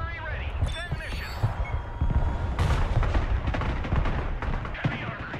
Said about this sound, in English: Mobile artillery ready. Send mission.